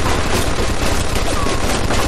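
Sustained machine gun fire from the video game Mafia II, a loud, dense continuous burst of rapid shots filling the whole moment without pause.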